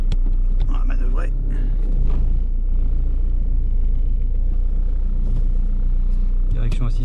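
Saab 9-3 car being manoeuvred into a parking spot, bought broken down, with a steady close engine rumble throughout and people talking over it.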